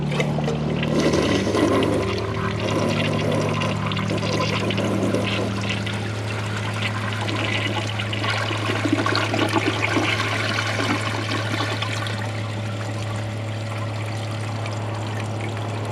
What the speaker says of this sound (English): we're going to flush this necklace, whatever it's called, and see if it takes it